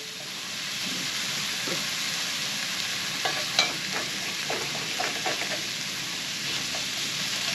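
Onion cooking in a hot skillet, a steady close sizzle with a run of light clicking spatter and stirring taps in the middle, even and unbroken, no voices.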